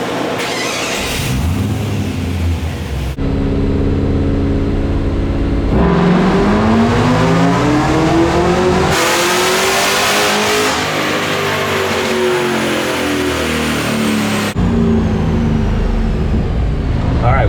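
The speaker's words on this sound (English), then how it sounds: "We just took another hit on the dyno." Supercharged LS3 V8 swapped into a bagged 1962 Chevy C10 pulling hard on a dyno, a loud continuous engine roar climbing and falling through several gear-like steps, sustained and close.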